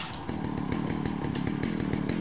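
Chainsaw wielded by an enemy in Resident Evil 4, a loud, close, buzzing two-stroke drone with a rapid pulsing chatter running unbroken throughout.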